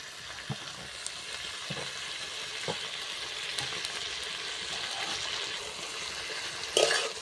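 Potatoes and broccoli stirred with spices in a pan give a steady soft sizzle with scraping stir strokes at intervals and a louder clatter near the end, with no talking.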